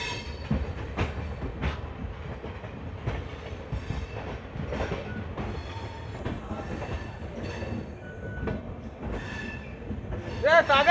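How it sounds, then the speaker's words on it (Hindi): ICF coach train passing near Manmad junction, a continuous rumble with rhythmic clickety-clack of wheels over rail joints and a brief squeal near the end, heard from inside a moving train. "ट्रेन गुजर रही है।"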